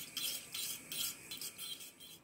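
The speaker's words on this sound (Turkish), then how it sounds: "Ve karıştırarak muhallebi haline getiriyorum." Starch being stirred into hot caramel in a pan to make caramel pudding: rhythmic scraping strokes of a spoon against the pan, about six passes in steady succession, close and fairly quiet.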